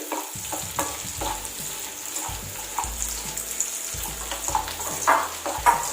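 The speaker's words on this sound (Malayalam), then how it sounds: "സവാള ഒന്ന് വഴന്ന് വരട്ടെ." Large-cut onion pieces sautéing in a pan for butter chicken gravy, a steady broad sizzle with recurring low thumps and scraping stirs throughout, close and moderately loud with no talk.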